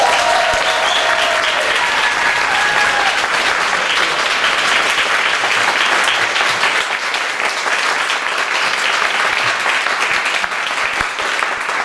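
A concert audience at a choir's anniversary event applauds the choir accompanist with loud, sustained clapping that continues steadily throughout, with no break.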